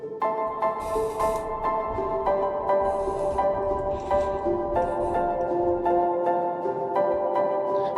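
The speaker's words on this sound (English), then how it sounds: "ambient piano" An ambient piano preset in the Vital synth plays sustained, reverberant chords that change every second or so, layered with soft high shimmer, steady and fairly loud throughout with no talking.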